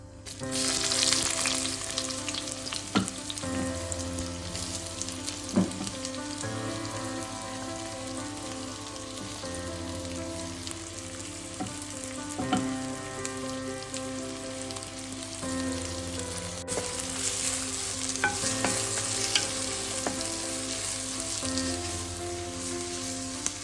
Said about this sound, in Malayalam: എണ്ണ ചൂടായി വന്നിട്ടുണ്ട്. നമുക്കോട്ട് സവോള ഇട്ട് കൊടുക്കാം.